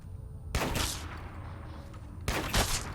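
Two shotgun blasts ring out in Fallout 4, each a sharp loud report with a short trailing decay, spaced about two seconds apart over quiet game background.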